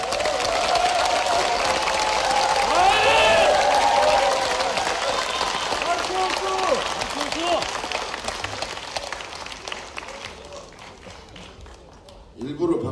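A crowd at a Korean political party meeting applauds steadily as a Seoul mayoral candidate arrives, the clapping loud at first and gradually fading, with voices calling out over it near the end.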